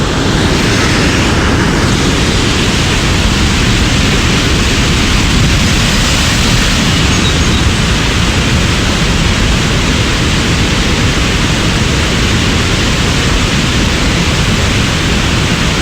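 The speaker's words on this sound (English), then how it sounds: "It's loud, and it sort of is just a constant kind of white noise rush" Sandstone Falls in New River Gorge National Park roars nearby, a loud, unbroken rush of falling water that holds steady throughout with no other sounds breaking through.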